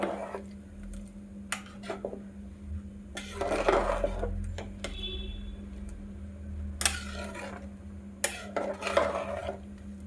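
Soaked basmati rice being mixed slowly in a metal pot for mushroom biryani, scattered clinks and scrapes of a spoon against the pot with quiet gaps between strokes, close by.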